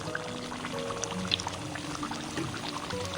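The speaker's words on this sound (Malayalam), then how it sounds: "കുറച്ച് മോര് ഒഴിച്ച് കൊടുക്കുന്നതാണ് കേട്ടോ" Buttermilk is poured into chicken curry, a soft gurgling trickle into a pot, faint and brief.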